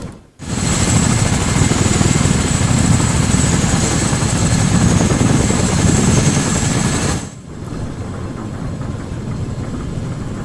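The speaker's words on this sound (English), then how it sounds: "Did this helicopter sound that rusty before it crashed it?" A loud helicopter in Arma 3 roars with a dense, whirring rotor and engine drone, then drops abruptly to a quieter, steadier hum.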